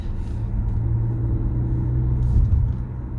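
A 2022 Mazda CX-5 Turbo cruises along the road, giving a steady, close low engine and road rumble inside the cabin that swells slightly midway and carries no talk.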